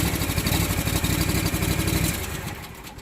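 A mower engine runs loud and close with a steady rapid chug, then winds down and fades toward the end, with no talking.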